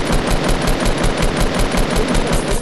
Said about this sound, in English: Shoot them, shoot, ready?